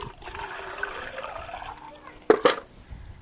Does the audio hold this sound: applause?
no